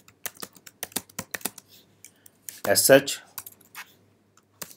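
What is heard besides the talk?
typing on a computer keyboard, entering a crontab entry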